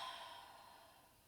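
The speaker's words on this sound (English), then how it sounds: "And exhale." A single soft, drawn-out exhale during a relaxed breathing exercise, faint and airy, tapering off gently over about a second.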